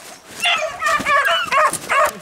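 Dogs outdoors yip, bark and whimper excitedly in short bursts, mixed with voices talking nearby.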